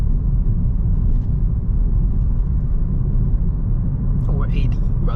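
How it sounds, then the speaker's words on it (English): A 2022 Kia Stonic with a 1.4-litre petrol engine accelerates, giving a steady, loud low rumble of engine and road noise from inside the cabin throughout, with a faint sound near the end. "Accelerate to 100 over here"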